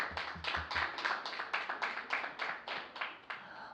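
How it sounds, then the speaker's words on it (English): Small audience claps after a question-and-answer exchange at a formal debate: scattered rhythmic claps that are fairly faint, quick and uneven, without much of a crowd roar. "First a round of applause."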